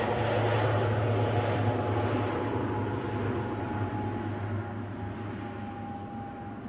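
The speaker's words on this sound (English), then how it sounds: "that ATR is moving, unbeknown to me." An ATR turboprop moves on the ground at Edinburgh airport, a steady droning engine hum with a low tonal whine, heard from a moderate distance and easing slightly toward the end.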